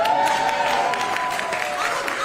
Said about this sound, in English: you can say Marco Rubio down here and everybody just applauds